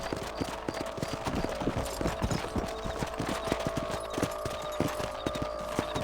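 Steady clip-clop of horse hooves at a brisk trot in Red Dead Redemption, continuous rhythmic clatter close by with a low ambient hum and no talking.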